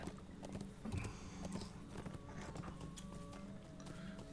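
Horse hooves clip-clopping in a video game, a quick irregular patter of hoofbeats under a busy, faint background of game sounds, with no voices over it.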